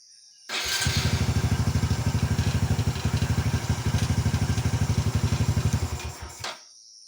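A Honda MSX motorcycle engine fires up and runs at a steady, fast idle, its even throbbing pulses loud and close for about five seconds before it cuts off.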